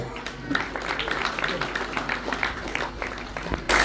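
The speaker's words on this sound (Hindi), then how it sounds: "तालियों से अभिनंदन करें" A crowd applauds at a Kabir Jayanti ceremony, with steady, dense clapping filling the whole stretch, mid-distance, and some voices mixed underneath.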